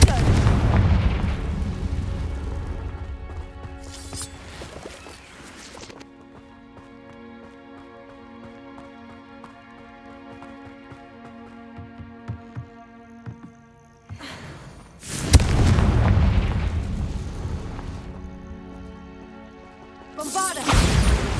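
Confringo fire spell blasts in the Hogwarts Legacy video game, loud booming bursts at the start and again near the end, with a sustained music bed between them and a voice calling out.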